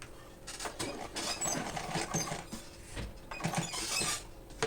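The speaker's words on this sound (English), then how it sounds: "I'll just bend this in and see, and sew it down." Sewing machine stitching fabric while making a foldable lunch box, a steady mechanical whir with rhythmic clicking bursts repeating through the stretch, close and fairly loud.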